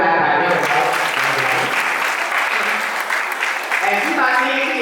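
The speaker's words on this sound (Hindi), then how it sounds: "एक बार जोरदार तालियां बजाओ" A loud, sustained round of clapping from an audience at a Jain Siddhachakra Mahamandal Vidhan gathering in Rewari, Haryana, a dense crowd applause filling the whole moment.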